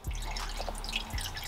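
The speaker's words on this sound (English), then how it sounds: "you're going to take your 14 ounces of coolant and you're going to slowly, oh yeah, you're going to slowly pour it down the" Coolant poured slowly into the coolant hole of a two-stroke Sea-Doo engine, heard as soft dripping and light liquid splashes with a couple of low thumps, faint and close.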